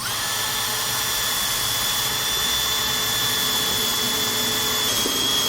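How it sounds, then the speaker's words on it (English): A power drill bores holes into a trailer sidewall at a marked stud location, a steady high-pitched whine running continuously, close and loud, with no talking. "make our marks to drill our holes"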